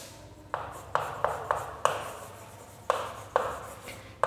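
A pen moving over paper while a line is written, with a series of sharp separate taps and scratchy strokes at an uneven pace, close and fairly loud with nothing else behind them.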